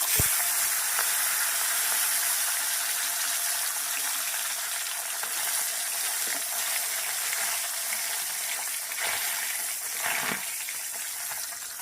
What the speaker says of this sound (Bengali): লেজাটা ভাজা হয়ে গেছে মাথাটা ভাজতে দিয়েছি